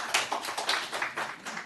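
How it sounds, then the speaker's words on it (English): An audience claps at a House Judiciary Committee hearing, a short burst of scattered, irregular handclaps from a small crowd in a hearing room, with no voices over it. "This is not a forum for applause or anything like that."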